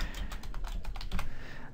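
Rapid typing on a computer keyboard while writing VB.Net code, a quick close burst of distinct key clicks with no talk.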